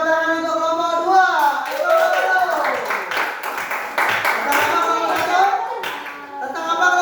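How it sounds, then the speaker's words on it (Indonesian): Students in a classroom clap for a group, a quick patter of hands that runs throughout under a teacher's voice and the children's chatter. "tepuk tangan untuk kelompok 2."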